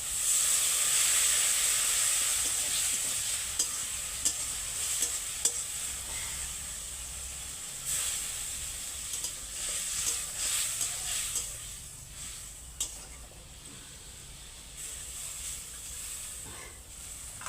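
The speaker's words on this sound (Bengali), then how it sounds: "দেখো চিংড়ি মাছটা কি সুন্দর ফুটে দেখো" Prawn curry simmering in a pan after water is added to the spiced, fried prawns, giving a steady hiss and bubbling sizzle throughout, with occasional stirring clicks and no talking.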